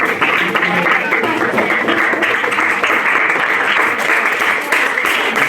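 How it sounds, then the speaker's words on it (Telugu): An audience in a prayer house at a Vacation Bible School event claps in sustained, dense applause that holds steady and loud throughout. "ఇంకా మరి వాళ్ళకి చప్పట్లు కొట్టండి."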